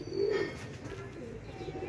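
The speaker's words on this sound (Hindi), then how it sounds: "ये सलीम भाई कबूतरों का शौक करवाने लगे हैं।" Soft low cooing of pigeons, a steady murmur close by with no talking.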